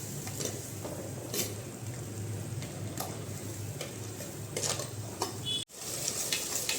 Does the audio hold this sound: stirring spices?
yes